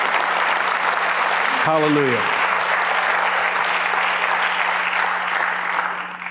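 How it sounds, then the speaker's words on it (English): A church congregation claps hands during a Sunday morning sermon, a steady dense wash of applause running the whole time, with one voice calling out briefly partway through. "why don't you clap your hands this morning?"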